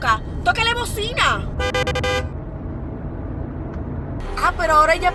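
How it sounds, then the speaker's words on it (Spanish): Car horn in a street scene, sounding in a couple of short toots and a longer steady blast between and under excited Spanish talk, with traffic noise behind. "¡Tóquele bocina!"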